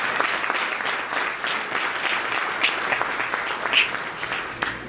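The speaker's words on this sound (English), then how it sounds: "so let's give her a round of applause" Sustained audience applause at an annual business conference in Toronto, many hands clapping evenly for several seconds with scattered louder claps and faint whoops.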